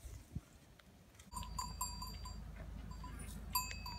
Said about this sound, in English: The goat.